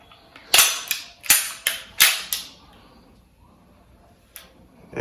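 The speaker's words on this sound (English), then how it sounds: "now that that's done, we can go through taking the gun apart" A Springfield XD-9 Defender 9mm handgun is taken apart by hand: several sharp, loud metallic clicks and snaps in quick succession, close up, then near quiet with one last faint click.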